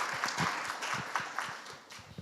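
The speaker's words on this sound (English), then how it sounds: "extend a very warm round of applause for our wonderful panelists" An audience at a high-level conference on middle-income countries applauds the panelists, a short spell of moderate clapping with distinct claps audible that tapers off toward the end.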